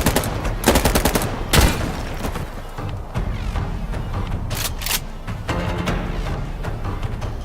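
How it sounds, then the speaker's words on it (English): Rapid bursts of Uzi-variant submachine gun fire with a stock from the Insurgency Sandstorm game, loud and continuous automatic fire with sharp repeated cracks and no voices over it. "Here we see a new weapon that I assume to be a variant of the Uzi with a stock, and shows some of the suppression effects in the game."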